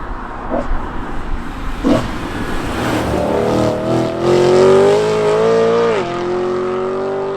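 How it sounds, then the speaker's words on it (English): BMW E92 M3 running a Stage 2 map, heard from inside while driving: a steady engine note swells and climbs under acceleration, eases briefly, then holds a strong, close drone to the end. "So the figures are one thing, but what is the car like to drive?"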